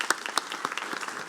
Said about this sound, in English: Please give Chaplain Maxwell another round of applause for that wonderful prayer.